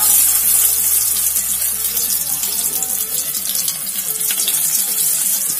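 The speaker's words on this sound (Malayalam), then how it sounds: "ഗീ ചൂടായിട്ടുണ്ട്. ഇനി നട്ട്സും കിസ്മിസും ചേർത്തെടുക്കാം." Cashew nuts and raisins frying in hot ghee, a dense, even sizzling hiss that stays loud and close throughout, with a low hum underneath and no talking.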